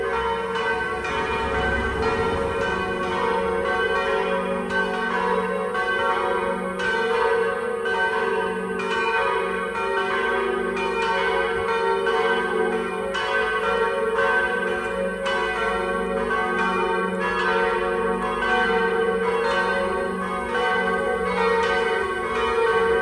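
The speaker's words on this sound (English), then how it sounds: "These are the bells for the morning mass, 7:30, the local Croatian mass." Church bells in Medjugorje ring for the 7:30 morning Croatian mass, a steady, loud peal of overlapping tolls sustained throughout with no voices.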